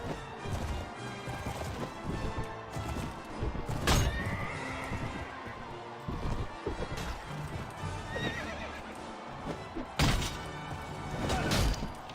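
A horse in the Mount and Blade Floris mod game neighs and whinnies amid clip-clopping hooves and the clash and thuds of melee combat, with a louder whinny near four seconds and another burst near ten.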